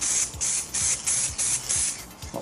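Aerosol paint sprays onto new metal body panels during an Austin Mini restoration, a series of about six short, loud hissing bursts with brief gaps between them, close up.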